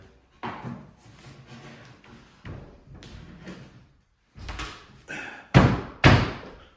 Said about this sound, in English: now we are ready to close up this crate